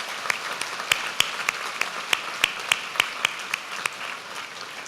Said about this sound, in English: I'd like everyone to give you a round of applause